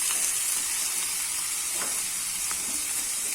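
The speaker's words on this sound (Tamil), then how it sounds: "தக்காளி நல்லா வதங்கட்டும்." Roughly chopped tomatoes sautéing in a pan for Chettinad kaara chutney, a steady close sizzle and hiss running unbroken for a few seconds.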